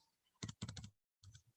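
Two short bursts of keystrokes on a computer keyboard while an email address is entered, quick close clicks with a brief pause between, heard alone at low volume.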